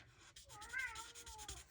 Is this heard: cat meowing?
yes